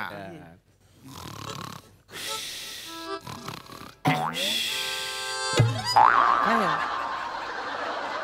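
Someone on a comedy stage mimics snoring with snorts and nasal rumbles, mixed with playful boing-like vocal noises and laughter, loud and close.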